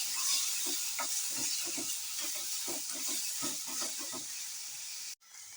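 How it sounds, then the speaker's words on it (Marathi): Paneer cubes frying in hot oil over a high flame, a steady loud sizzle with rhythmic stirring scrapes throughout, cutting off briefly near the end. "पनीरचे क्यूब्स आहेत ते चांगले तळून घेऊया. हाय फ्लेमवरच करायचं, म्हणजे चांगले असे तळले जातात."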